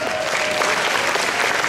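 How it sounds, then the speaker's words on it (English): Steady applause from a large audience at a corporate kickoff event, dense clapping filling the room evenly from start to finish, with a faint murmur of crowd voices underneath. "Let's give that a round of applause."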